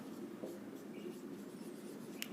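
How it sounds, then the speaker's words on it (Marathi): Chalk or marker scratches across a board during a maths lecture on arithmetic progressions, a quiet continuous scraping with a few sharper taps over a faint room hum. "मी ते असं लिहितोय"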